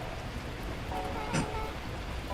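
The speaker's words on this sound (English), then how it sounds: "At that moment, the heavens opened up, unleashing torrential rain." Torrential rain from the video game Beacon Pines makes a steady, even wash of noise with a soft tone underneath and a brief swell midway, with no voices.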